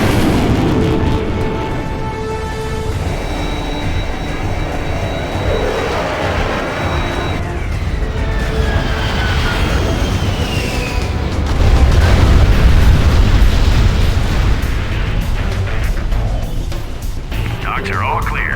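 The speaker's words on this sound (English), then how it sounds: "Launching airstrike." Airstrike explosions in Command & Conquer Generals Zero Hour, a continuous loud rumbling of booms and blasts with a heavier surge midway, set among game sound effects and tonal music.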